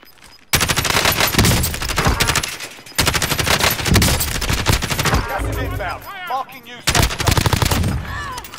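Rapid bursts of automatic gunfire in a battle-royale shooter game, loud and close, coming in several long volleys separated by brief pauses, with chirping effects near the end.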